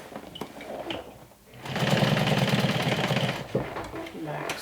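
A sewing machine stitching a medium crossbody tote bag, a close rapid mechanical whirr running for about two seconds after quieter handling sounds, with faint speech-like murmur around it.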